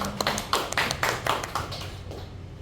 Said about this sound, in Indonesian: Tepuk tangan untuk Bu Ayu dulu.